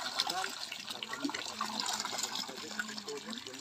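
Water gushes steadily from a hand water pump, a continuous rushing splash with people talking over it.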